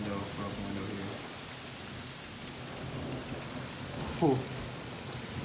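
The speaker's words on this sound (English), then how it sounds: "Rain's straight coming in waves." Heavy rain roars steadily in waves during a hailstorm, heard from inside through a broken open window, with a brief rumble of thunder near the end and a person exhaling once.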